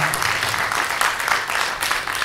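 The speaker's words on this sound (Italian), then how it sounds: "facciamogli un applauso" Brief audience applause for a new appointee at an Italian gathering, an even, moderately loud patter of many hands that holds steady throughout.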